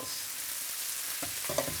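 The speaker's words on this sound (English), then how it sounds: "just toast them, not too full on, just so that they lose that little bit of pink colour" Food toasts in a frying pan with a steady soft hiss, broken near the end by a few brief scrapes of stirring.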